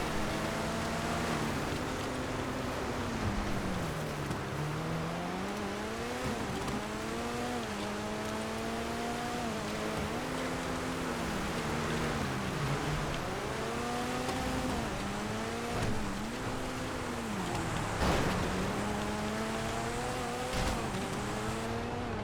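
Mesos car engine from GTA FiveM during an off-road snow race, revving and shifting continuously with rising and falling pitch through gear changes, loud and close throughout with no talk.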